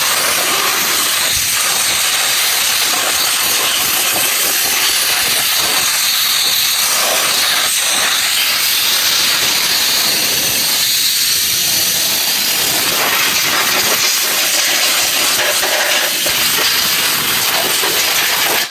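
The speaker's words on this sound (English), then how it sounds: "I'm going to use my compressed air, because you've got to get all that air out of there, and blow everything out." Compressed air blasts out of a Husky 60-gallon air compressor filter housing in a loud, continuous hiss that runs the whole time, with brief surges and dips in strength and no talking.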